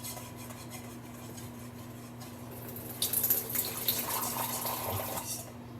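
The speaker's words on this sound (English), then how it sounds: "I'm just getting a little water." A kitchen tap turns on partway through and water runs steadily into a sink, moderately close, over a constant low hum and no talk.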